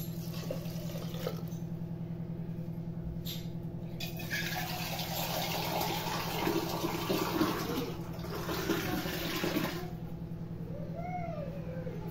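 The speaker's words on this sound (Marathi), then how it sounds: "पाणी टाकूया।" Water is poured into a cooking pot for Marathi-style dry prawn rice, a rushing, splashing pour that swells in the middle and then eases off over a low, steady kitchen hum.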